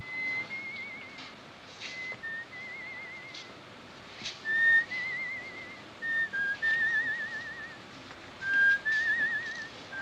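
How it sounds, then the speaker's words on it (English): A man whistles a song in the 1953 film Niagara, a thin, wavering melody of short phrases heard faintly over a soft hiss, with brief pauses between notes. "he's whistling their song."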